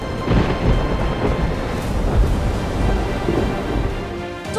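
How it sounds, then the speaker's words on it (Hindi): Heavy rain and gusting wind lash the coast at Digha in Purba Medinipur during Cyclone Remal, a dense, steady roar of wind-driven rain with low rumbling surges and no voices. "सुबह से ही बारिश हो रही है, कभी तेज हो रही है, कभी धीरे हो रही है।"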